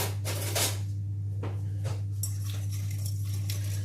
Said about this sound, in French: je vais mélanger tous les ingrédients